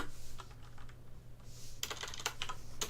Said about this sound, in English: Let's just type in hard drive.